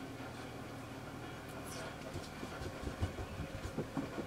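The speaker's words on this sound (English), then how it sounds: "you can possibly hear a tractor in the background as well" A low, steady tractor engine rumble runs in the background throughout, with a few heavier thumps and knocks near the end; no one speaks.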